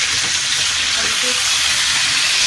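Chicken karahi, Hyderabadi style with salt added, frying in a pan, giving a steady loud hiss of sizzling oil with faint stirring underneath, close up and continuous.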